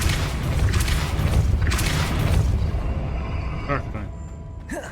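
A Depulso force spell is cast in Hogwarts Legacy, a dense, booming rush of noise that surges and rumbles for several seconds, then thins into scattered lighter impacts and a closing whoosh.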